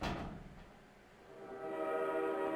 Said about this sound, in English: Train comes through, and they close.